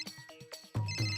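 A phone ringtone sounds in short repeated bursts after a few quick voice-like tones, fairly quiet and brief.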